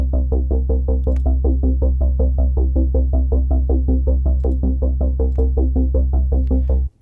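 A steady, pulsing synth chord from Native Instruments Massive with a stereo negative flanger repeats in even rhythmic strokes, with a subtle swirling, hollow shimmer over a constant deep bass; no voices.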